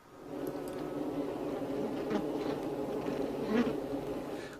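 Bees buzz steadily inside a hive, a dense, moderately faint drone with a few individual insects flying close and swelling briefly louder, and no voices.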